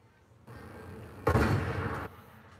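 A sniper rifle fires in a video game, heard as one loud, sharp blast with a short rumbling tail that stands out against a steady background hiss.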